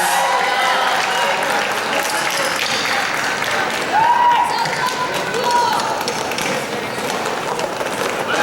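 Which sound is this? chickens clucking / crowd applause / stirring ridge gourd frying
crowd applause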